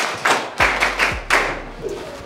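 A classroom of students claps for a classmate in a brief scattered burst: several sharp hand claps and taps that land unevenly and trail off quickly.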